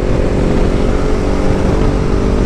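A Yamaha MT motorcycle approaches from behind on the road, its engine a steady, loud drone mixed with wind and the hum of another bike, continuous for the whole stretch.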